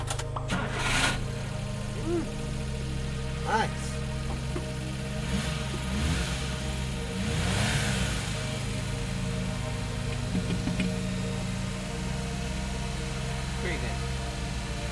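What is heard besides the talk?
kei truck engine starting and revving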